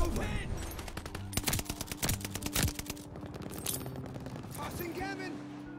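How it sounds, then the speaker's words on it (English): STG44 assault rifle fire in Call of Duty Vanguard comes in several sharp bursts of rapid shots, with quieter gaps between them and someone talking over parts of the firing. "I'm still getting used to the STG, but this thing's starting to shred"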